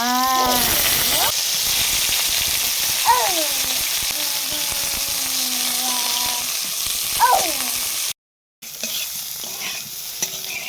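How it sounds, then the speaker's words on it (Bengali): Cauliflower florets frying in hot white oil in a kadai for cauliflower malaikari, a steady loud sizzle throughout, briefly cut to silence near the end, with a voice speaking over it in places. "তেলটা গরম হয়ে গেছে, এবার একে একে এই কফিগুলো দিয়ে ভেজে নেব"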